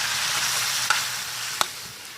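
Ham cubes, chicken, garlic and onion sizzle steadily in a pan while being stirred, with a soft continuous frying hiss and two brief sharp clinks of the utensil against the pan.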